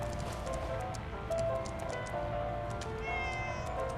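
A cat meows in the video game Acadia, drawn-out mewing calls over a steady low background hum, heard alone and fairly faint.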